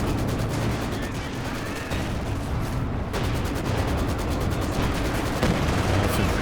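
Long-range gunfire and artillery from a Company of Heroes 2 battle, a dense continuous barrage of shots and booms that fills the whole stretch at steady loudness.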